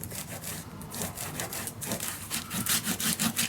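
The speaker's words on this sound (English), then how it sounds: "There we go, burnish it down." Paper pressed onto a mini album is burnished down with brisk back-and-forth rubbing, close and scratchy in an uneven rhythm that quickens toward the end, with no talk over it.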